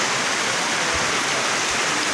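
Heavy rain pours down in a village, heard from inside a school building as a dense, loud, unbroken roar.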